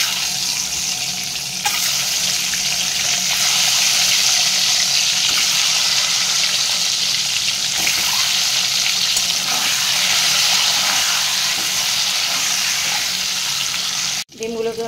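Eggs frying in oil in a wok, a loud, continuous close sizzle and hiss that ends abruptly with a sharp break near the end.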